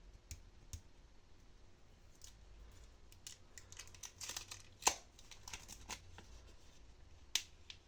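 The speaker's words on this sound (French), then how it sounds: "enlever le scotch." Quiet crinkly handling with scattered sharp clicks and snaps, like adhesive tape being peeled and lifted off in short bursts, close by with no talking.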